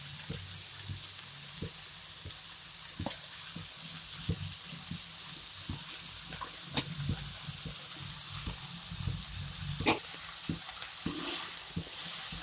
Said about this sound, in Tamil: லைட்டாக உள்ளே கொடுத்து நம்ம கிளறி விட்டுருவோம்.